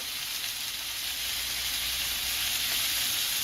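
Cured bacon sizzling in a pan, a steady, even hiss of frying fat that holds constant throughout with no voices.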